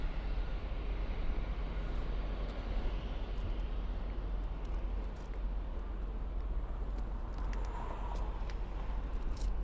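An Air Canada Rouge Airbus A320 airliner at Toronto Pearson airport, its engines a steady, broad roar that holds constant throughout at moderate distance, with no talking.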